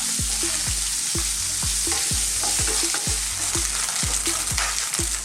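Chicken pieces being sautéed until light brown for chicken mami, a steady sizzle under a regular, rhythmic clatter of a spatula striking the pan about twice a second, close and clear.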